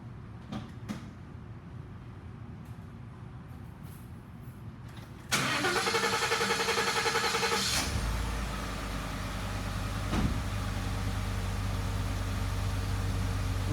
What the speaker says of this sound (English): Then I'm going to go over to the vehicle, start it up.